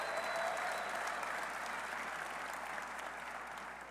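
Sustained applause from a crowd at a football coach's introductory press conference, a dense even clatter of clapping that holds steady for several seconds and fades slightly toward the end.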